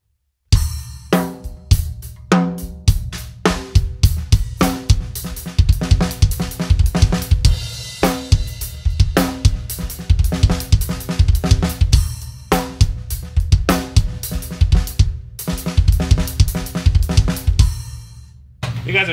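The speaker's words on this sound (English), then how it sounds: "if you wanted the right hand on the hi-hat there, that would sound like this." Acoustic drum kit playing linear fills in a live lesson, the right hand on the hi-hat. Busy interlocking kick, snare, tom and hat strokes run in repeating phrases, close and loud, with no talking.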